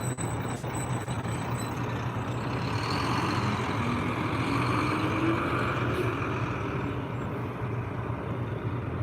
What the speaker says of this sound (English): Look at all these buses of people out here.